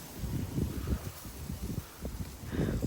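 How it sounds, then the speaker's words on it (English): A strong wind gust sweeps through oak tree leaves, giving a steady, moderately loud rustle that surges in waves and builds again toward the end, with no talk over it. "That was a pretty big gust."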